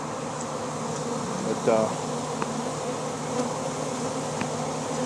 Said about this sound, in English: So far it's looking like a pretty good sized swarm.